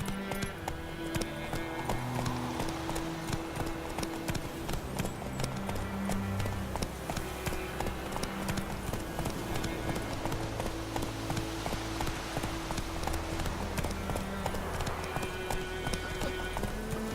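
Roach, Geralt's horse in The Witcher 3, gallops with a fast steady clip-clop of hooves under continuous game music for the whole stretch.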